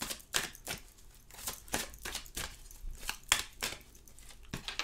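Tarot-style cards are dealt onto a table for a reading, making a series of crisp, close taps, slaps and soft paper rustles in an uneven rhythm, with no talking.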